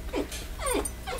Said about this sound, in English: we have a new puppy and he cries a lot if he's not the center of attention